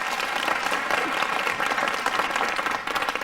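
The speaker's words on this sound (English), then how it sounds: "You can applaud." Audience applause at a talk on the status of women, a dense, steady wash of clapping from a crowd that holds at an even level for the whole stretch, with no talk over it.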